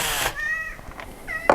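A cat meows twice close by, two short tonal cries separated by a brief pause, heard alone in a quiet indoor space.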